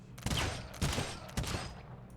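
Musket volleys from units firing in the strategy game Humankind, three sharp broadband blasts roughly half a second apart, each loud and close with a short decaying tail.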